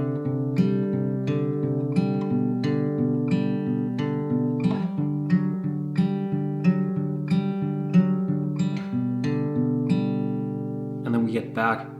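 An acoustic or clean guitar plays a picked variation of a song, with steady arpeggiated notes ringing evenly for about eleven seconds before a brief scrape of handling at the end.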